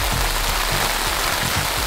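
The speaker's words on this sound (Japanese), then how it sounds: "この傘の音をね聞いていただくとねわかると思いますが、この強い雨の特徴はやっぱりですねボディに打ち付ける力が強いわけですね" Heavy rain beats hard and steadily on an umbrella overhead, a dense, close, continuous patter with no voices.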